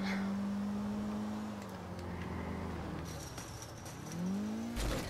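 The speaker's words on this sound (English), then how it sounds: "it's like a little teenage boy racer car." A small boy-racer car in Grand Theft Auto IV drives with a low, steady engine drone that dips and then rises again as it revs, and a short thump comes near the end.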